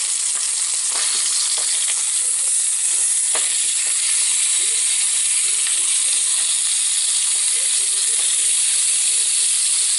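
A thick ribeye steak sizzles and hisses loudly in a smoking-hot cast iron skillet, a dense continuous frying crackle with small pops, close and steady throughout with no speech.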